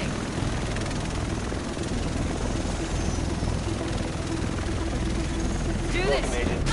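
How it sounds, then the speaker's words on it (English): A helicopter in the video game Tom Clancy's The Division throbs steadily and loudly throughout, a dense rotor roar under game voices that talk over it. "The rest of us should be in this chopper."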